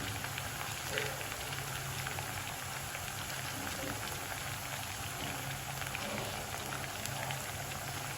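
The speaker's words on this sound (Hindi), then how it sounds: "अच्छी तरह से इनको फ्राई करेंगे हम पहले" Potato balls frying in hot oil, a dense, continuous crackling sizzle with fine popping that stays constant at moderate loudness, and faint speech in the background.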